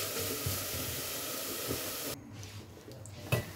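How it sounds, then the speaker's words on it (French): Vinegar poured into a hot pan to deglaze fried onions for a beef tongue sauce gives a steady, close sizzling hiss. It drops off sharply partway through and leaves a quieter simmer with a soft clink. "راح نزيد زوج مغارف تاع الفينيغر pour déglacer pour donner une acidité à la sauce"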